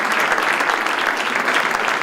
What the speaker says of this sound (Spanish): Todos ellos han recibido a Felipe VI con un sonoro aplauso